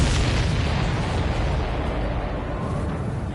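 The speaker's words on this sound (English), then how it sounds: "Did you see that explosion?" In the Ace Combat 7 flight game, a missile strikes a supply ship and sets off a loud, broad explosion that roars and slowly fades over several seconds, with no voices.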